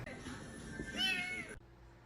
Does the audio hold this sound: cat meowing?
yes